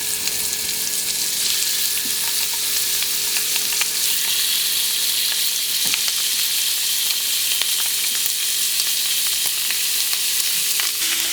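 Continuous loud sizzling and crackling of chicken skin frying in a hot pan, steady throughout with small pops and no voices.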